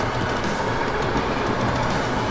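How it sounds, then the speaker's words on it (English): A train passes in the video game Metal Gear Rising, a dense, steady roar of rolling rail noise filling the whole stretch without a break or any speech. "there's a train"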